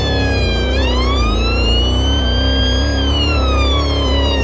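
Wailing whale-style police sirens from several emergency vehicles in the Roblox game Redwood County, rising and falling continuously and loud over a steady engine rumble, with no talking.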